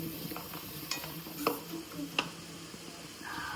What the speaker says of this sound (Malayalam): നന്നായിട്ട് പച്ചവ് മാറുന്ന വരെ ഇളക്കിക്കൊണ്ടിരിക്കണം